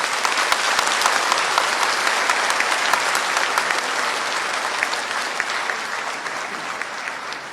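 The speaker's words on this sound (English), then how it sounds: "Let's give a big applause for them." Warm applause from an audience at a speech, a steady wash of many hands clapping that stays fairly even and fades slightly toward the end.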